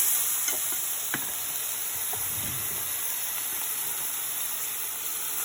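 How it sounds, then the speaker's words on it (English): Steady sizzling of ham frying in a pan on slightly too high heat, a constant hiss with a few sharp clinks and stirring noises, no voices. "I've got a ham frying in the pan."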